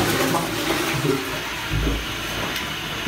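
A toilet flushing nearby: a loud, continuous rush of water runs steadily throughout with no voices.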